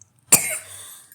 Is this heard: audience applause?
no